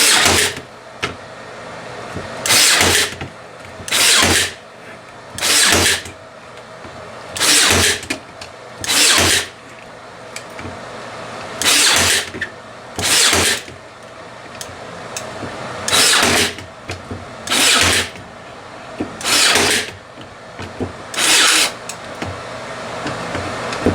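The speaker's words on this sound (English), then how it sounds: "Now we're going to attach it using brads." Brad nailer fastening a small piece in a woodworking project, heard as about a dozen sharp, evenly spaced bursts of pneumatic hiss and bang, each lasting under a second, with quiet gaps between them and no talk.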